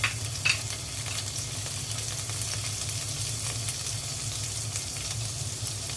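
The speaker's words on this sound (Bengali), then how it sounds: "পেস্তা বাদামও দিয়ে দিচ্ছি, কয়েকটা ভেজে নেব" Pistachios fry in a pan with a steady, even sizzle and a light stirring rustle, close and continuous, and no voices.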